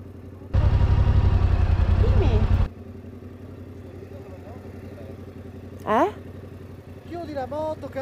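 A loud motorcycle engine idles with a steady low rumble for about two seconds, then cuts out in the middle of a road in Georgia as voices keep talking in the background.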